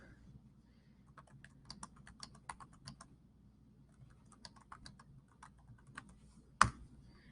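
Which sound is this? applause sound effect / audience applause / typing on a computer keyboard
typing on a computer keyboard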